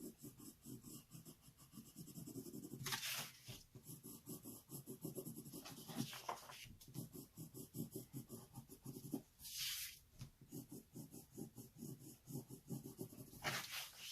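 A pencil scratches and rubs across paper while shading a self-portrait sketch, close and quiet, in repeated strokes broken by short pauses.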